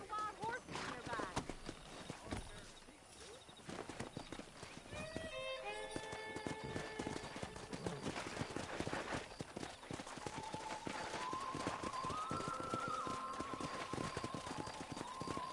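Wild horses gallop and neigh in Red Dead Redemption, hooves clattering steadily while whinnies rise above, under spoken dialogue and ambient game sound.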